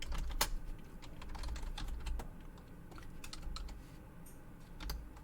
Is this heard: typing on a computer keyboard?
yes